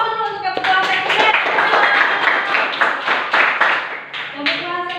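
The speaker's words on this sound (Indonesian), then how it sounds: "Kita aplaus dulu untuk kebutuhan sekunder" A classroom group applauds teammates presenting on secondary needs, with claps spreading across the full five seconds at steady loudness, while voices talk over them throughout.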